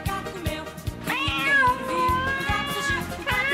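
A cat meows loudly over a steady rhythmic beat of background music, the calls rising and wavering across the middle of the clip; no one speaks.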